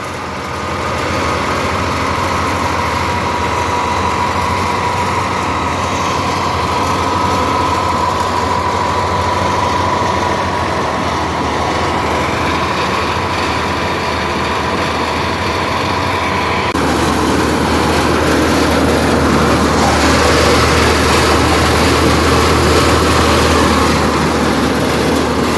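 Fiat 640 tractor, a 75 hp old model, running steadily while powering a threshing machine, a loud continuous engine drone with a constant low hum and mechanical rattle that gets slightly louder and rougher toward the end.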